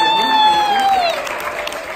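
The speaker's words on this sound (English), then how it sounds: "Deserves a round of applause." Audience applause at a stand-up comedy show, with a whoop or whistle rising over it, then clapping continuing steadily at close range.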